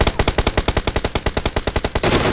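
Sustained automatic gunfire from PUBG Mobile, a rapid, evenly spaced burst of about twenty loud shots over two seconds that ends in a noisy wash, with no talk.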